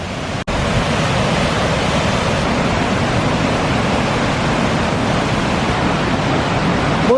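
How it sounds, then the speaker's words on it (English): Water rushes steadily down a steep stream into a small whirlpool, a loud, continuous broadband roar that stays close and unbroken apart from a brief dip near the start. "And we have some garbage that's stuck in a little whirlpool of water,"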